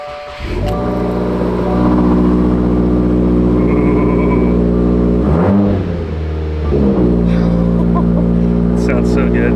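A 2022 Subaru WRX fitted with a Perrin front pipe cranks and fires up, then settles into a loud, deep, rumbling idle with a brief dip and blip partway through, close up.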